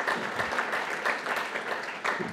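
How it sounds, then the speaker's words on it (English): An indoor audience at a community State of Elkridge Address claps steadily, a dense, even wash of many hands sustained throughout without a pause. "I want to acknowledge you and give yourselves a round of applause."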